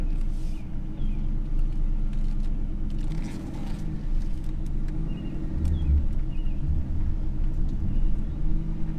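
A 2000 Ford Mustang Cobra R, one of only 300 built, with 3,417 miles, heard from inside while driving with no radio or AC, giving a steady low engine drone and rumble throughout.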